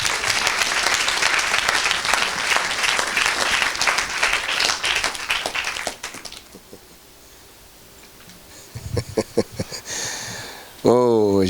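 A church congregation breaks into loud, dense applause for about six seconds, then the clapping stops and a few scattered voices and a sharp rising shout follow in a quieter room.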